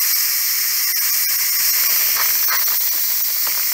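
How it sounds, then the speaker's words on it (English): Steam hisses loudly and continuously from the pressure release of a Pampered Chef slow cooker/pressure cooker, a steady bright rush with faint sputtering crackles, no voices over it. "That way they can see the steam"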